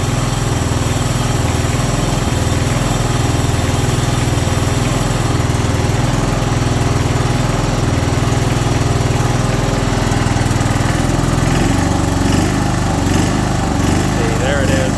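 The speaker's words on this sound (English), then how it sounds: "But here it's surging. See how it surges?" A John Deere 240 lawn tractor engine running rough and surging instead of idling smoothly, loud and close, its rumble rising and falling in a steady uneven pulse throughout.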